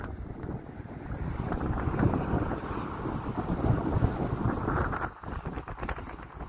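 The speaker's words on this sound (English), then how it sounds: "hopefully the wind's not too bad" Strong wind buffets the microphone at a roadside beside a loaded truck, a loud, continuous rumbling roar that dips briefly near the end.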